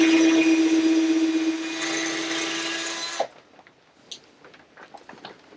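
Power drill boring through scrap wood while building a scrap bin, a loud steady whine for about three seconds that stops abruptly, followed by quieter scattered knocks and handling noises.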